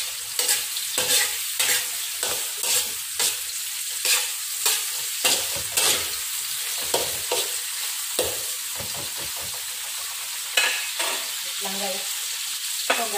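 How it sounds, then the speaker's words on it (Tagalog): Taro (gabi) sautés in a pan with green and red chilies, giving a continuous sizzle broken by regular scraping stir strokes, close and fairly loud. "gigisahin ko muna yung aking gabi"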